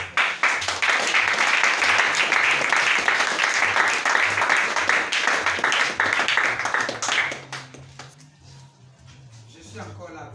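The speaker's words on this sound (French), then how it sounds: "Oh, acclamez." A church congregation breaks into sustained, full applause that rings steadily for several seconds, then cuts off abruptly as a voice resumes speaking.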